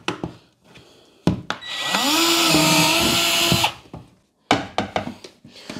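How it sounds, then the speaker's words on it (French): A power drill bores a 10 mm hole, whining loudly and steadily for about two seconds, framed by scattered knocks and clatter of handling before and after. "Percer plutôt un trou de 10 mm par là."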